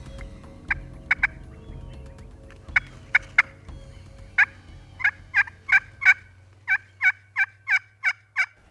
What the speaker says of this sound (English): we had a lonely gobbler gobble back at us